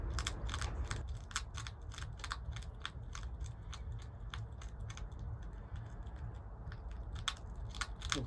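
A cat crunching dry food from another cat's bowl, a rapid series of sharp, close crisp bites repeating steadily over a low background hum.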